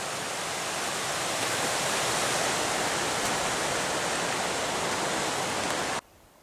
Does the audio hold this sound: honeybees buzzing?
no